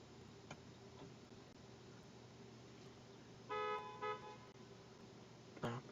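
Car horns honk from outside a parked vehicle, a brief burst of short toots followed by a second quick honk, set against a steady low engine-like hum and faint ticking.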